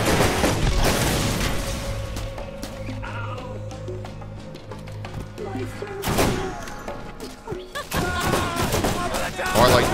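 Gunfire in Borderlands comes in loud, sharp bursts and volleys with thudding reports, separated by quieter gaps, while a person talks during the shooting.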